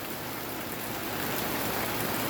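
Steady, dense patter of rain drumming on a tin roof, a continuous hiss with fine crackling drops throughout, fairly close and even.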